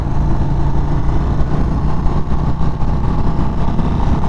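A 2023 Indian Springfield Darkhorse motorcycle accelerating hard in third gear, its engine giving a loud, dense, continuous rumble heard from close up on the bike, mixed with rushing wind and no speech.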